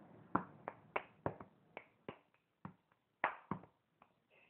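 Crisp finger snaps and claps alternate at close range in a loose, uneven rhythm, about a dozen sharp hits with quiet gaps between them, each fading quickly in a quiet room.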